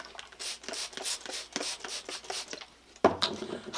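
A Stanley #151 spokeshave blade is pushed back and forth on a diamond sharpening stone, giving steady rhythmic rasping strokes at close range. The strokes end in a sharper knock near the end.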